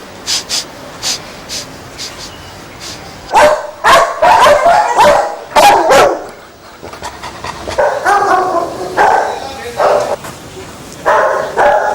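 Several dogs bark and yip at a dog kennel, sharp repeated barks close by in bursts, with people talking between and over them.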